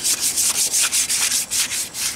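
A tobacco pipe being wet sanded, taking off dark rust spots, gives a quick run of about ten rhythmic rubbing strokes, close and even.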